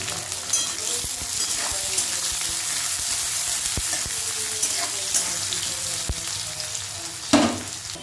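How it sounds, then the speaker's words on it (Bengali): Chopped onion and potato sizzle steadily in a pan, a constant crackling hiss with a few sharper clicks and scrapes of stirring, close and moderately loud, with no voice over it. "পেঁয়াজ আর আলুটা এদিকে ভাজা হচ্ছে"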